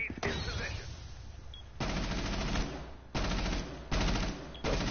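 Video game gunfire, loud bursts of rapid automatic shooting in several sustained volleys with short gaps, close and dominant in the mix.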